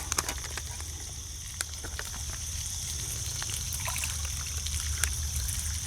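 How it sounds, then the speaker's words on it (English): Water trickles and pours steadily into a cup at a campsite, a thin continuous stream close to the microphone, with a few small clinks and no talk. "And then I'll get a cup of water."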